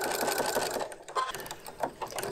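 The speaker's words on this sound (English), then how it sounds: "I've sewn around three sides completely." A sewing machine stitching around the edges of a fabric bookmark, a close, rapid mechanical whirring that runs steadily, slows briefly near the middle, then picks up again.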